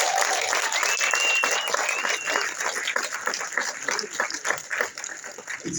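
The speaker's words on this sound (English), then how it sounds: "Please give them a round of applause." Warm audience applause for the volunteers at a Drafthouse event, a full crowd clapping steadily and slowly thinning toward the end, with a faint whistle early on.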